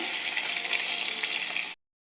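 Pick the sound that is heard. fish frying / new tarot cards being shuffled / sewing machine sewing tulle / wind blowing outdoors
fish frying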